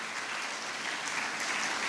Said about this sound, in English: a big round of applause to Dr. Padmanabh Kamath for his achievement in life